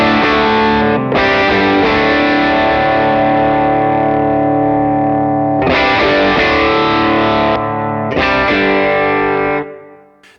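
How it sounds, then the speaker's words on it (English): An electric guitar plays sustained, strummed chords through the red side of a King of Tone overdrive pedal, loud and gritty, with a few brief pauses between chords before the sound cuts off. "Here's the red side of the King of Tone."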